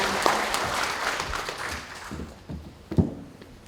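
Audience applause at a city council event in Nonsan, Korea, a short burst of clapping that thins and swells with a few close sharp claps and light thumps.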